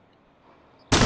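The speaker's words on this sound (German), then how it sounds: "Ich zeige auch noch einmal die Blendgranate." A flashbang grenade detonates in Rainbow Six Siege as a single sudden, loud blast that bursts in after a near-silent lull and holds as a dense, roaring wash to the end.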